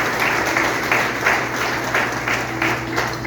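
A congregation applauds during a family worship service in a church, a dense, steady wash of many hands clapping throughout, loud and close, without speech.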